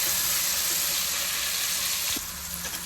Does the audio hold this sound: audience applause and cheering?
no